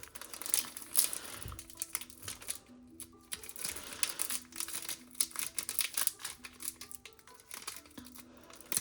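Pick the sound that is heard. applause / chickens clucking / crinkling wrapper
crinkling wrapper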